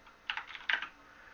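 Quick keystrokes on a computer keyboard while setting up a Kali Linux virtual machine, two short bursts of clicky taps close up against a quiet background.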